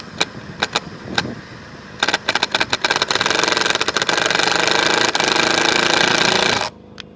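Self-tapping screws driven with a power driver into the awning bracket of a 2022 Grand Design Reflection fifth wheel RV, a few sharp clicks followed by a loud, close, sustained buzzing whir that stops abruptly.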